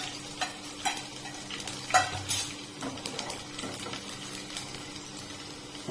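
Garlic fries in hot oil in a pan while making restaurant-style dal khichdi, with a soft sizzle under repeated stirring clinks and scrapes of a utensil against the pan, and no speech.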